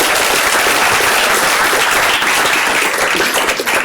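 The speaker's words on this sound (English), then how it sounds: "How about another round of applause for the companies presenting in the first block?" Audience applause fills a conference hall during a biotech company showcase, a dense, steady clapping from many hands that holds loud and even for several seconds.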